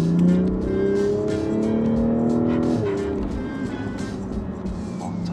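A Honda Integra driving on the road, its engine droning and rising through the revs before a gear change drops the pitch, with steady road and tyre noise throughout, heard from inside the car.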